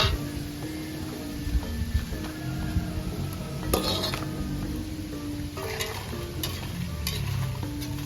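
Gorengan fritters sizzle steadily in hot oil in a home kitchen pan, with a utensil stirring and occasionally clinking against the metal, the frying loud and close throughout.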